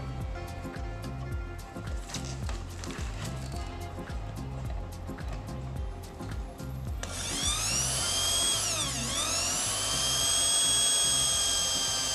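A shrill, high-pitched drill whines into a hard monitor casing, starting after a stretch of background music and rising in pitch as it bores.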